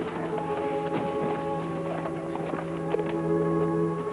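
A horse's hooves clip-clop in a steady walking rhythm, clear and fairly close, layered over a sustained musical background.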